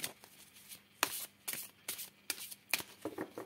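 Oracle cards are shuffled by hand for a reading, producing a quick series of crisp riffling and flicking bursts at close range, quiet and with no voices.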